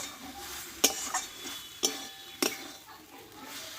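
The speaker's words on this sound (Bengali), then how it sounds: "ঘি আর গরম মশলাটা দিয়ে ভালোভাবে একটু নাড়াচাড়া করে নেব" Ghee and garam masala being stirred into a thick banana flower curry with chickpeas: a few distinct metallic spoon clinks against the pot over a soft, low background, close by, with no talking.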